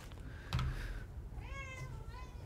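The house cat Bianco, hungry and wanting food, lets out a couple of short meows indoors, moderately close, alongside soft background noise and a brief muffled voice.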